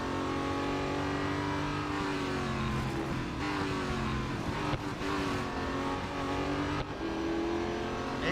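Race car engine in the Real Racing 3 game, a loud sustained drone that rises and falls with gear shifts and revving, alone with no talk, steady throughout.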